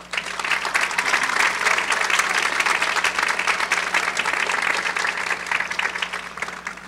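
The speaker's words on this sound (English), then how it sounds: "I just ask that everyone please give our staff a round of applause" A DHS graduation ceremony crowd applauds school staff, with dense, sustained clapping that holds steady for several seconds before tapering slightly at the end.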